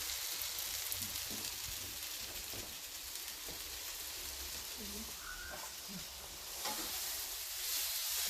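Onions sizzle in a hot pan on a stove that has just been switched off, stirred now and then during a mushroom ginger recipe; a soft, steady frying hiss runs throughout with faint scrapes of stirring.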